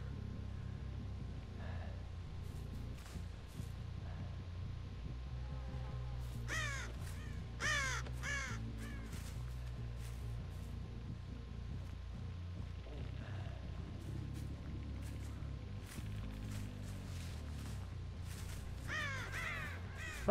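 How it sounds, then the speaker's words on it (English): Crows cawing in the video game Dead by Daylight, repeated harsh caws scattered across a steady low ambient drone, some clustered in quick bursts, no talking. "Fuck off, birds."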